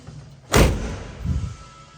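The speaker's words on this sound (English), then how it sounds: "You gotta close the door a little hard." A single heavy slam as the door of a 1972 Chevrolet C10 truck is shut hard, a sharp close thud followed by a softer rattling rebound.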